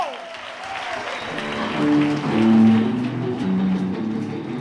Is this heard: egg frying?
no